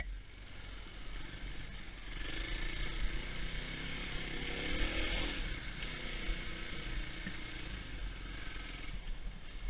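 A dual sport motorcycle's single engine runs close by on a single track ride, a raspy chattering drone that builds a little in the middle, with wind noise and no speech.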